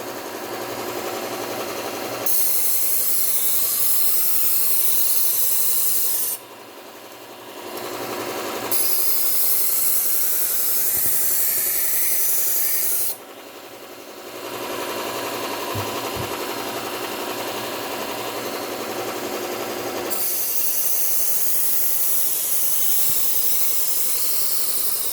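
Steady rasping hiss of a dull Miyabi, Global or Mercer kitchen knife edge being drawn across a sharpening stone, continuous strokes with two brief pauses, close and fairly loud, no talking.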